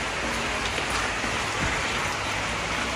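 Steady rain patters and drips through a leaking roof onto a surface close by, a dense continuous hiss with no voices.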